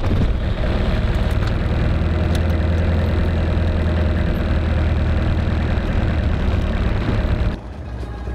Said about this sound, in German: Mein Auto stand in letzter Zeit irgendwie nicht so flüssig.